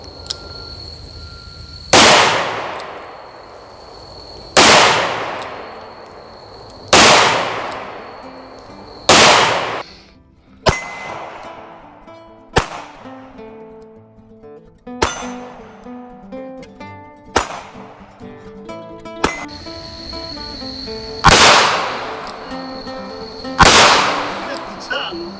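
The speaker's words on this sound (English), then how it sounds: "We got some footage of us shooting this gun coming up next." Shots from a Taurus Model 85 revolver ring out outdoors, about eleven loud, sharp cracks spaced a couple of seconds apart, each with a short decaying echo, some quieter than others.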